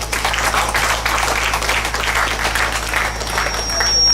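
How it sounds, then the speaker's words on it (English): Lecture audience applauding at a book launch and valedictory lecture, a steady dense wash of clapping held for the full stretch, loud and close with no break. "Please, another round of applause."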